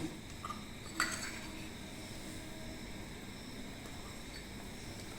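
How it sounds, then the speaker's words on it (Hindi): An empty bowl is set down on a kitchen counter with a single sharp clink, followed by faint handling sounds against a quiet, steady room hum. "स्लरी के लिए मैं एक खाली बाउल लेती हूँ।"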